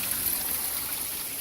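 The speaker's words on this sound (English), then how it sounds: "So the water coming down right here, as you can see." Water from a small hidden waterfall trickles and streams steadily outdoors, a continuous close hiss of running water with no voices.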